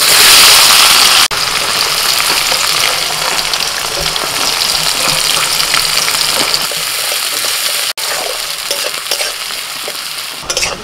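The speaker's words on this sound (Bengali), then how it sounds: "ফোড়নটা হয়ে গেলে দিয়ে দিচ্ছি পেঁয়াজ কুচি" Chopped onion goes into hot oil tempered with bay leaf and five-spice, bursting into a loud hiss at first, then settling into a steady, bubbling sizzle with stirring scrapes and a couple of sharp knocks.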